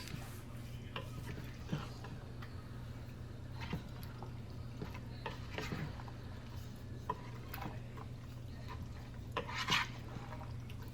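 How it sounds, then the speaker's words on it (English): Pinto beans with chipotle and greens being stirred in a cooking pot, a soft continuous scraping and swishing with faint clinks against the pot, steady low background hum, no talking. "I'm finna mix that, get that mixed in good with the pinto beans"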